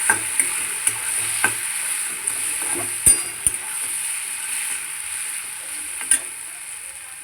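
Ginger garlic paste sizzles steadily in a hot pan for a vegetable curry, a continuous frying hiss with occasional clinks and stirring scrapes, close and alone without talk.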